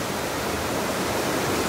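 Swollen river rushing, a dense steady roar of water close by, constant and loud with no voices.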